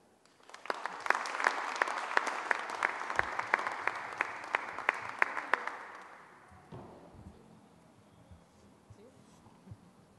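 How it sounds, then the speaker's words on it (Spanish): A conference audience applauds loudly, sharp individual claps standing out in a dense burst that fades after about six seconds into a quiet room with scattered small sounds. "para quienes pido un fuerte aplauso."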